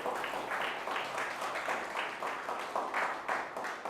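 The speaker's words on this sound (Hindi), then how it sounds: "जोरदार ताली से उस खुदावन यीशु मसीह को धन्यवाद करें।" A church audience applauds with loud, cheering thanks to Jesus Christ, a steady, dense wash of clapping that rises and falls in waves for several seconds.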